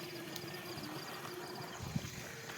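An electric water pump motor runs on a farm at night, giving a steady, even hum with a faint whine that holds throughout, fairly close and with no voices over it.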